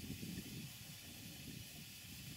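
A Stuart Models Major Beam model steam engine runs in steam in a garden, giving a steady, continuous hiss with a soft low chuffing underneath and no pauses.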